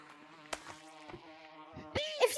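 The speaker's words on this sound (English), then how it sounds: "Bees! They're little bees," Cartoonish bees buzzing around a beehive in the Gorilla Tag VR game, a steady droning hum with sharp clicks and game sound effects over it, rising to a louder burst near the end.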